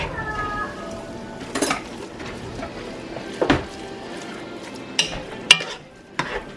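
Ground meat browns in a pan for Filipino-style spaghetti while a utensil stirs and breaks it up, giving a steady sizzle under repeated sharp scrapes and clanks against the pan.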